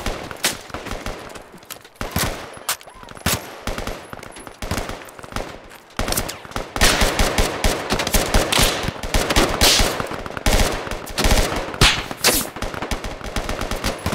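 Rapid bursts of M4 rifle fire from a Project Reality game sound mod, loud and close, with repeated automatic volleys and brief pauses that thicken into denser sustained fire in the second half.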